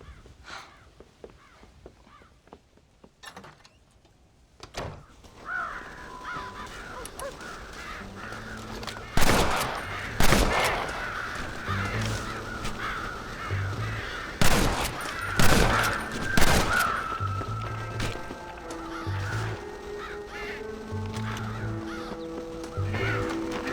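Crows caw around a corn silo in the Red Dead Redemption western game, repeated harsh calls rising over a background of sharp gunshot bursts and rumbling, with no talking.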